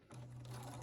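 A sewing machine runs steadily up close, stitching ruffled lace onto the edge of a ribbon in a short, slow hum.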